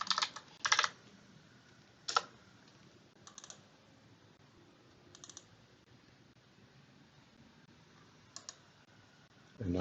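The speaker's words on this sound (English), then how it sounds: "We'll type in some text." Short bursts of computer keyboard typing, close and fairly quiet, separated by pauses, with a final louder burst of keystrokes at the end.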